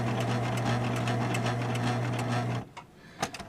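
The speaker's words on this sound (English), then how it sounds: "I'm going to back stitch here." Sewing machine back stitching a fabric bingo bag, a steady loud whirring hum of rapid needle strokes running for a few seconds before stopping abruptly, followed by a few faint clicks and handling sounds.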